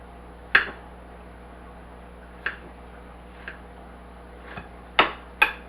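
A knife cuts through a homemade cheeseburger in a few sharp, sparse strokes, each a brief crisp crunch or tap against the board, quiet and close with pauses between cuts and no talking.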